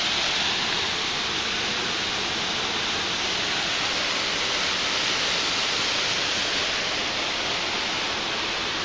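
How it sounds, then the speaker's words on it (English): A waterfall pours in a steady, dense hiss of falling water, constant and close, with no talking. "At the waterfall."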